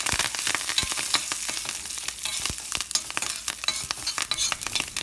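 Urad dal roasts in hot oil for a brinjal kootu tempering, crackling steadily while a spoon stirs and scrapes the pan in quick, irregular clicks, close and alone.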